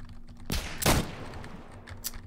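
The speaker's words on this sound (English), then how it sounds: "he's trying to shoot under me" Gunfire in a Roblox war game: two loud, sharp shots close together, followed by a fainter third shot about a second later over a low background hum.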